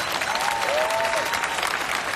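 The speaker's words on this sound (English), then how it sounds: "Clap your hands." A crowd claps loudly and steadily at a dance event celebration, a dense, sustained roar of hands with a faint whistle or cheer rising briefly through it.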